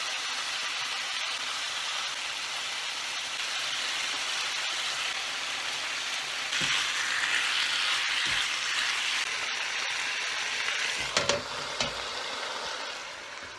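Spices for a West African peanut stew (maafe) sizzling in a hot pot, a steady crackling hiss that swells briefly midway, with a few light clinks near the end.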